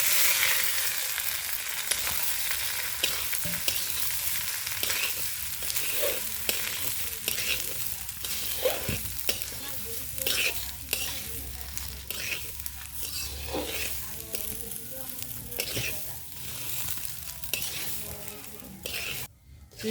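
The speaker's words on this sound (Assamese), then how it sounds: "অলপ অলপ জুই দি ভাজিব লাগিব চাউলখিনি।" Rice coated in ghee and butter is fried and stirred over low heat in a pan for mutton pulao, a continuous crackling sizzle with repeated rhythmic scraping and clinks of a utensil against the pan.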